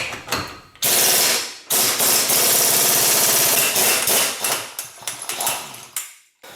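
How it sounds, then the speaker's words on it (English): A 36 mm drive axle bolt coming off a 1994–97 Honda Accord, heard as loud, close, sustained mechanical bursts of rattling tool noise with short pauses between them and no talking. "I'm going to go ahead and remove the drive axle bolt, 36 millimeter."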